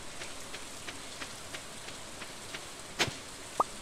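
Quiet, steady patter of rain in the farming game Stardew Valley, a soft continuous hiss with a couple of brief louder ticks near the end, no talking.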